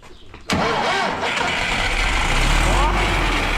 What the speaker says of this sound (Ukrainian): Трактор, як положено, запускається із кабіни.